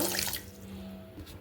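A little water is splashed into a blender jar for a summer juice: a brief loud pour at the start fading into a faint low hum.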